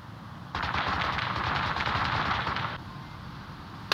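Sustained rapid gunfire in a video game battle, a dense burst of shots lasting about two seconds, loud and close, with no talking.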